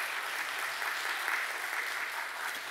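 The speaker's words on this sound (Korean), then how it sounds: "우리 격려와 응원의 박수 한번" A church congregation at a Friday prayer service applauds a high school youth group on retreat, a steady, dense wash of many hands clapping that fills the room without a break and holds at an even level throughout.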